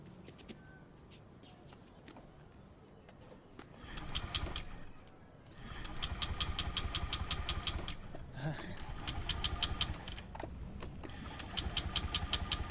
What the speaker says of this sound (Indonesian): Naik motor aja lah ya.